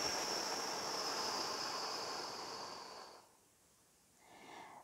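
A slow, steady exhale during guided meditation, a long breathy hiss that lasts about three seconds and then fades into near silence, followed by a faint rise.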